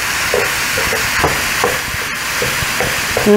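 Sausage frying in a pan, probably near flavored hamburger patties, with a steady close sizzle and several short stirring or scraping knocks spaced through it.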